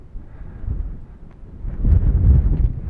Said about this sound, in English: Very windy. Wind coming out of the north to our backs right now.